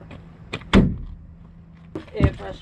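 An MCI coach door's air release gives a short, sharp hiss followed by a second burst a moment later, heard close up in a workshop.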